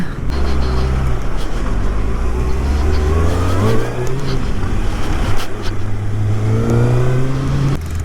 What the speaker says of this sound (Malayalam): 6R ഫസ്റ്റ് ടൈമാണ് ഞാൻ ഇപ്പോൾ ഓടിക്കുന്നത്.